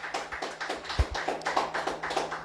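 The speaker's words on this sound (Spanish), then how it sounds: "Un fuerte aplauso al Señor, hermano." Rhythmic applause in a church service, many hands clapping in a steady, even beat, fairly faint and roomy with a low hum underneath.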